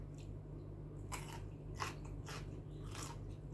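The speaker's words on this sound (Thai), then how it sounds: "ต้นคณะกรอบ" Crunchy blanched Chinese kale stems bitten close up, four or five sharp crisp crunches at irregular intervals over a low steady hum.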